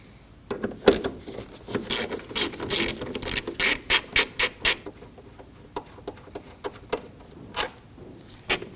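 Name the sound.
ratchet removing 7mm bolts on a Ford Edge air box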